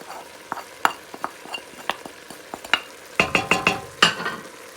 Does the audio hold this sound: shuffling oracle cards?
no